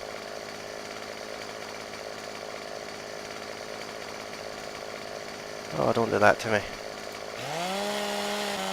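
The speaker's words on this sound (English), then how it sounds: "keep the chainsaw going" Chainsaw in Farming Simulator 17, idling as a steady buzzing hum, then a short burst of revving and cutting, then a higher steady whine near the end, with a person briefly talking over it.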